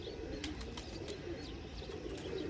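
A female Teddy pigeon caught in a net gives off faint, evenly repeating soft fluttering pulses over a steady low background hiss, quiet and without any talking.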